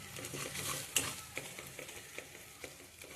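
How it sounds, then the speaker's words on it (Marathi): Homemade black chili powder, made from a family recipe, roasts in hot oil in a pan for a Solapur-style mutton rassa, giving a steady close sizzle broken by soft stirring scrapes and a few sharp utensil taps, with no talking. "असं तिखट पूर्ण असं भाजलं गेलं पाहिजे तेलामध्ये"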